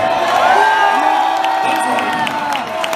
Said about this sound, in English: so give me another round of applause